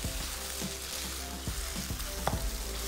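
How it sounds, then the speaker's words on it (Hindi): Green chilies and sesame seeds fry in a pan with a steady close sizzle and crackle, punctuated by soft stirring knocks and scrapes. "हरी मिर्च और तिल, इसकी भुनाई कर लेंगे"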